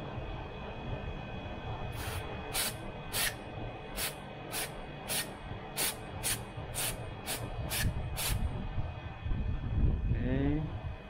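About a dozen short, sharp hisses of aerosol cleaner sprayed onto a car's mass airflow sensor, fired in quick bursts over a low background rumble, followed by a brief gasp-like sound.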